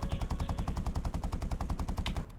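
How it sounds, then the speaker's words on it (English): Kord .50 caliber machine gun firing in War Thunder, a steady rapid stream of heavy booming shots in one sustained burst that cuts off at the end, loud and close. "It's such a cool sound for a 50 cal."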